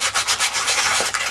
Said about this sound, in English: give it a light sanding with like 320 or 220 grit sandpaper